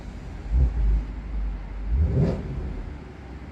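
Exhaust of a 2020 Jaguar F-Pace SVR with a supercharged 5.0 V8, two brief low rumbling revs about a second apart, close and fairly loud, with no talking.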